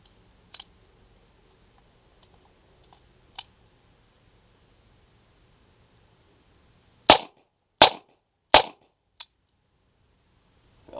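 A USFA Zip 22 rifle fires CCI rounds, the last failing to eject: a few faint clicks early, then three sharp, loud close shots about half a second apart and a final smaller click.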